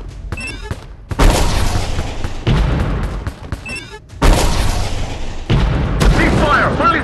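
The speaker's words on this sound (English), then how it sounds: "Shooting." Heavy gunfire and booming blasts from a military shooting video game, loud broadband bursts in several long barrages with brief gaps, some sharp crackling shots between them and a voice heard briefly under the noise.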